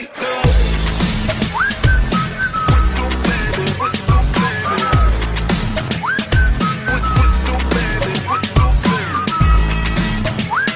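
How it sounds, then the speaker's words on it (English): A whistled melody rides over a loud pop or hip-hop beat, with a rising, bouncy hook repeating steadily throughout alongside thumping bass and drums. "Shawty, let that whistle go, oh, oh, oh. Yeah, baby, make that whistle go"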